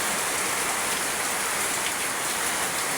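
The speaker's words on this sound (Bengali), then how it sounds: "খুব বৃষ্টি হচ্ছে, খুব।" Heavy rain pours down steadily and loudly outdoors, a dense unbroken hiss with no pauses and no voices.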